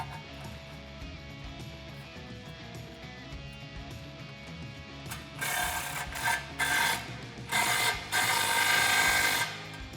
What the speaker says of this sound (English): Now we can tighten down this clamp.